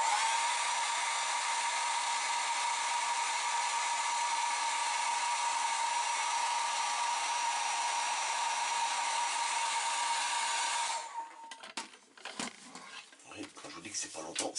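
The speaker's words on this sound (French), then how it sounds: "Là, sèche-cheveux, donc pareil, pas longtemps." A hair dryer blows with a steady, loud whirring whine for about eleven seconds, then shuts off, leaving faint rustling and handling noises.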